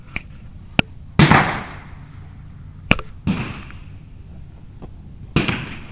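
22LR rimfire rifle shots at an outdoor club benchrest match, using match ammunition: several sharp cracks spaced a second or more apart, a few loud and near with short echoing tails, others fainter and distant, with no talk.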